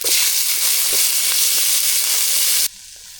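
Onions sautéing in a pan with chillies, a steady close, loud sizzling hiss with small crackles throughout, cutting off abruptly near the end to a much quieter background.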